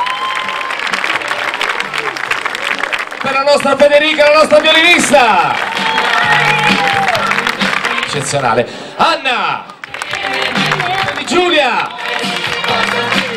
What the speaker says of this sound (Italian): Si merita il nostro più grande applauso